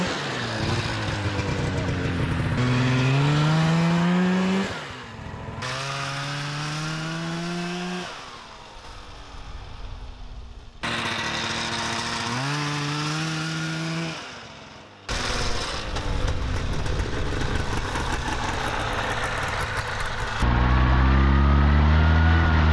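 A motorcycle fitted with a two-stroke snowmobile engine and an expansion chamber exhaust revs hard and loud, with several rising and falling throttle sweeps and brief drops between runs.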